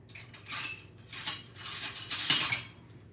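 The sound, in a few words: metal spoon stirring sliced garlic in a pan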